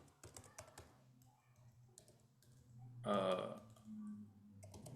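Short bursts of computer keyboard typing while an email search term is entered, soft and close, with a brief louder noise partway through and quiet room tone between keystrokes.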